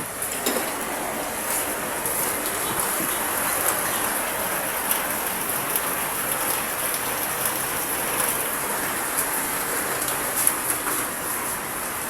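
Steady rain falls alone, a dense continuous hiss of drops on surfaces with scattered louder pattering, even in level throughout.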